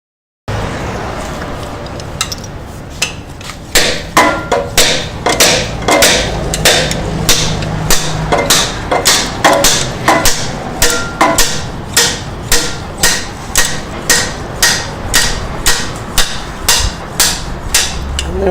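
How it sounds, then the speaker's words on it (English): A slide hammer knocks out a bushing from a Ford BTR four-speed automatic transmission. Its sharp metallic impacts repeat rapidly in a steady rhythm, loud and close, about two dozen strikes. "tapping it out with the slide hammer."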